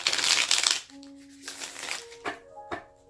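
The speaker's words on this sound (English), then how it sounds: "One last shuffle, please." Tarot card deck being shuffled by hand, a burst of riffling card noise followed by a few short, separate flicks and taps, fairly quiet with a soft tonal hum underneath.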